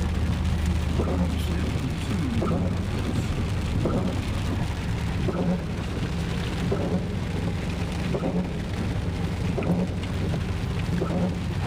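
Heavy monsoon rain in Arizona pours in a steady, dense roar on surfaces outside, with low rumbling underneath throughout.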